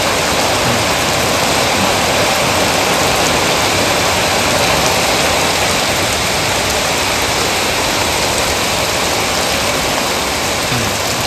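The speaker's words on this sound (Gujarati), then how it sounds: "ફાઈનલી મિત્રો વરસાદ આવ્યો થોડોક વધુ" Steady, loud rain pouring continuously without a break, a dense hiss of water falling on surfaces nearby.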